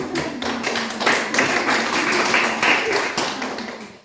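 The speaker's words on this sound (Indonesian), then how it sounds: "Kita berikan tepuk tangan untuk Eca dari kelompok 3." Classroom group clapping for a presenting team, brisk uneven claps from a modest number of people with murmured voices underneath, ending in a few sharp taps.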